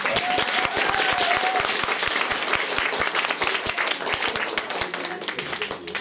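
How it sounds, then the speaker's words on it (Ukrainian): A film festival audience applauds steadily, with dense clapping filling the hall at a loud, even level for the whole stretch. It is briefly joined by a faint whistle or cheer near the start and thins slightly toward the end. "ми оплесками маємо їй подякувати"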